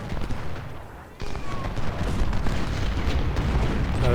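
Artillery volley in Ultimate General: Civil War, a rolling series of deep cannon booms and rumbling gunfire, continuous and loud with a sharp new burst partway through, with a voice talking over it.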